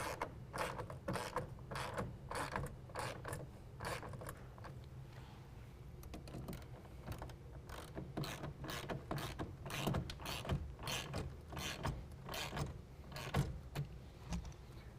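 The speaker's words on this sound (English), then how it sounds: "I'm going to use my 1/2 inch ratchet again. I'm going to tighten down both of my clamps." A 1/2 inch ratchet tightens the clamps on a tonneau cover fitted to a 2017 Dodge Ram pickup, giving a steady run of close, rapid mechanical clicks throughout.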